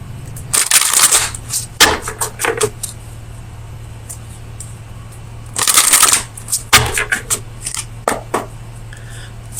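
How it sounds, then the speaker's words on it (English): Oracle of Visions oracle cards are shuffled in loud, close bursts of riffling and slapping, two main flurries separated by quieter handling, over a steady low hum. "let me get you an oracle card from the Oracle of Visions"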